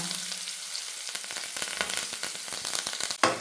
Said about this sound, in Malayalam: ഇങ്ങനെ വഴറ്റി കൊടുക്കാം നമുക്ക്